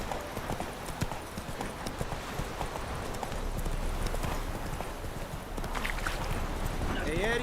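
Hooves of the horse Roach clip-clop at a steady walking rhythm in The Witcher 3: Wild Hunt, a continuous close patter with faint ambient game sounds and a voice speaking briefly.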